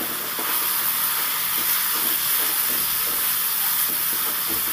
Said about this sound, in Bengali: গাজরটাও ভাজা হয়ে গেছে।